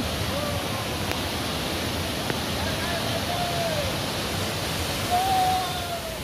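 Rushing water at Pelangi waterfall pours as a steady, dense broadband roar throughout, with a faint whistle-like tone drifting in near the end.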